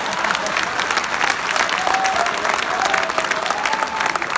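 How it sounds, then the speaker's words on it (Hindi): An audience at an Urdu poetry mushaira in Doha breaks into steady, dense applause, a continuous roomful of clapping hands with no speech over it. "आप एक बार ताली बजाकर मुझे इजाजत दें"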